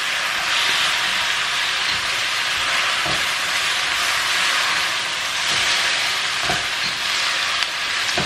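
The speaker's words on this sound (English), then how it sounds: "keep it stir frying" Tofu and pak choi stir frying in a hot pan, a steady loud sizzle and hiss with occasional scraping stirs throughout.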